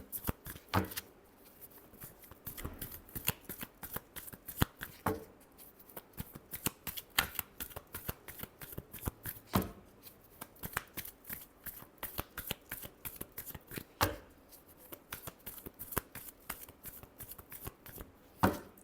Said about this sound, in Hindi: Last shuffle, 9 of cups, hangman.